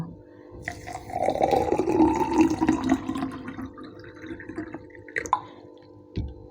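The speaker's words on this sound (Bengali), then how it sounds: "এবার নিয়ে নেব জল এই চিয়া সিডগুলিকে ভিজতে দেওয়ার জন্য।" Water is poured over chia seeds in a bowl to soak them for a weight-loss home remedy: a steady, close pouring splash runs for several seconds, then fades into a few small drips and clinks.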